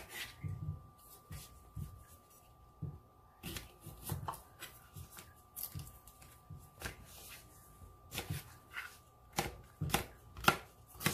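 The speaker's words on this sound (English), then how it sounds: "Chop, chop, chop." Knife chopping cucumber on a cutting board for cucumber kimchi, quick irregular bursts of crisp close taps with short pauses between runs, no talking.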